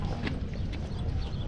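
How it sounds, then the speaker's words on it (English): Hooves of a 13-year-old miniature horse clip-clopping in a steady walking rhythm at Ventura Harbor, close by, with a soft outdoor background and no talking. "Is it a pony? Miniature horse."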